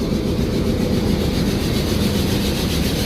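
A three-coach DEMU local train, with an orange-and-white tricolour locomotive nearby, gives a steady low rumble and rolling wheel noise on the rails, continuous and fairly close, with no talk.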